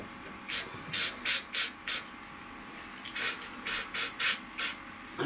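Short bursts of spraying hiss, about a dozen, as foam sealant is sprayed into rivet holes inside a trailer, in two quick runs with brief pauses between, close and fairly loud.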